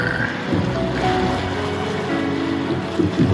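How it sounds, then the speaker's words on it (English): Water lapping against the hull of an anchored boat on a fairly calm night, a low continuous slosh with gentle irregular swells and a faint breath of wind, close and steady with no voices. "The lapping sound of the water against the hull."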